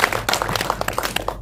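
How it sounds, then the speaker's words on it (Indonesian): A press conference audience for the Indonesian film Maju gives a short burst of lively clapping, close and fairly loud, with quick irregular hand claps. "Tepuk tangan dulu buat film Maju."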